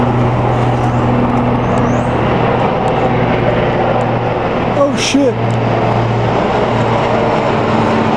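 A United States Marines helicopter flies close by and comes in to land, its loud, steady engine and rotor drone filling the scene while a man briefly exclaims over it.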